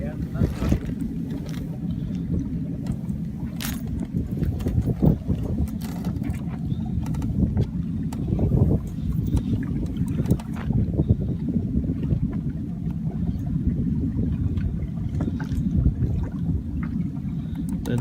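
A small Hunter Minstrel sailboat runs downwind on open water near Salcombe or Dartmouth, with a steady low rush of wind and water and occasional knocks, fairly faint and continuous.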